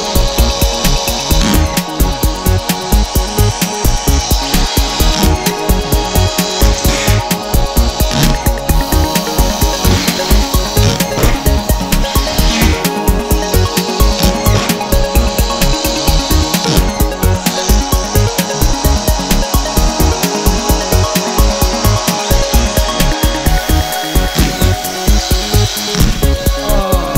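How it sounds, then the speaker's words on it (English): Hilti SD 4500-A22 cordless 22-volt drywall screwdriver runs in loud, rapid repeated bursts as screws are driven, a continuous motor whine and clatter with no talking. "Well, that was the SD4500 by Hilti."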